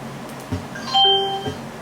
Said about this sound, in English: it played chimes that time